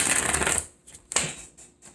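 Tarot cards get a close, bright riffling shuffle, followed by a few sharp flicks and snaps as the deck settles, with no voices.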